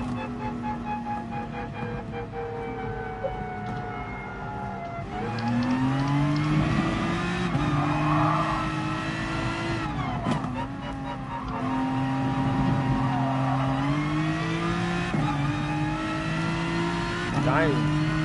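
Race cars in a racing video game on the Dragon Trail circuit: a close, loud engine drone climbs in pitch through each gear and drops at the shifts, with a voice talking over it throughout.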